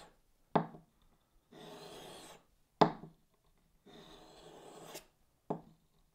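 A carving axe bevel is sharpened in single passes, each a short, close, grainy rasping stroke of about a second, with a sharp tap or knock marking the start or end of each pass.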